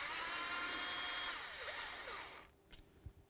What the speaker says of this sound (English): The next thing we're going to do is remove our 10mm headed bolt right here.